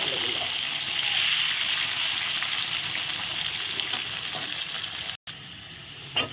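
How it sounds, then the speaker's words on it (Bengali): Cauliflower and potato pieces fry in a pan for a fish curry, a steady broad sizzle with scraping stirs running throughout, close and fairly loud, with a brief dropout near the end. "ফুল আলু দিয়ে দিলাম এখন একটু নেড়ে চেড়ে ভেজে নেব"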